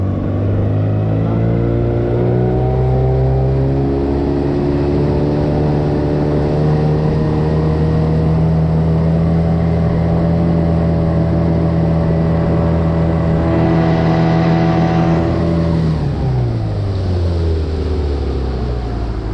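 An outboard motor pushes an HDPE (PND) boat on its first spring outing, holding a loud, steady droning hum close by before the throttle eases off and the pitch drops near the end.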